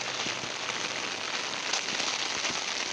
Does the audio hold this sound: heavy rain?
yes